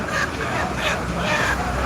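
Roosters and chickens call repeatedly, close and loud, over a dense, noisy poultry market background in Salna, Gazipur.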